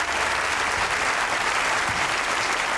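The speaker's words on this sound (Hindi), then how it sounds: "अब जरा तालियां ठोकें, शोर मचाएं, पागल हो जाए" A studio audience at a comedy show breaks into dense, sustained applause with cheering, loud and continuous throughout with no pauses.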